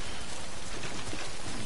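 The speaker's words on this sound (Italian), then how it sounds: "Nel frattempo cade giù la pioggia e l'ira di Dio" Steady heavy rain pours down outdoors, a dense, loud, unbroken hiss of drops striking surfaces close by, with no voices or pauses.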